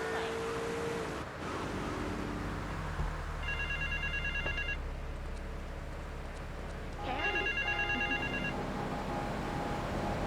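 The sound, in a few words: telephone ringing in a payphone, from the video game GTA 3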